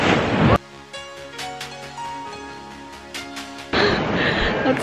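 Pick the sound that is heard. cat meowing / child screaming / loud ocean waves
loud ocean waves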